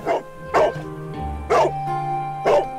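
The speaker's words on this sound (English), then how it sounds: "Woof woof." A dog in Sherlock Holmes: The Devil's Daughter barks four times at an even pace, each bark sharp and close over a low, steady background hum.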